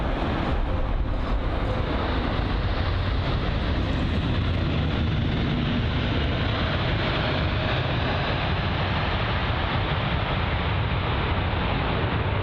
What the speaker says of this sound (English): And you can really hear the reverse thrusts working on that